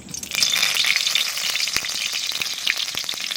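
Dried red chillies and bay leaves fry in hot oil for a desi chicken curry, giving a steady, close, bright crackling sizzle with a few sharp pops throughout, no voices.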